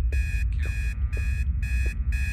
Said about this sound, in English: that alarm's going off again